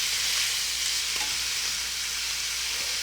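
Pancetta frying crisp in a pan, a steady, close broadband sizzle with faint crackles running evenly throughout and no voices.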